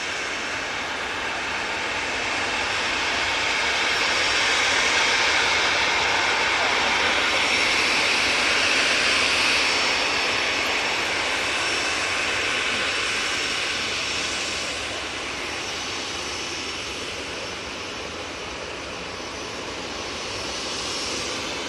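An EasyJet jet airliner at Manchester Airport gives a broad, steady engine roar that swells gradually, peaks midway and then eases off slightly without fading away.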